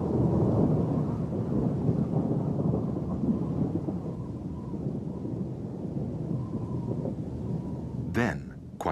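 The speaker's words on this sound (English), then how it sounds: "Until it escalates and turns into a full-blown storm." Thunderstorm rolling over the Drakensberg Mountains in South Africa, a long continuous low rumble of thunder with rain underneath, steady and loud throughout, ending in a brief sharper crackle near the close.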